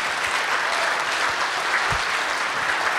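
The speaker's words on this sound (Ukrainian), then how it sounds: "Дякуємо, Сеслава, ваші оплески." Audience applause at a Ukrainian state presentation of the Diia smartphone app, a dense, steady wash of many hands clapping throughout, loud and continuous with no speech over it.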